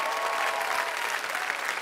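An audience at a Cap48 closing-night gala applauds loudly, a dense steady wash of clapping from many hands throughout.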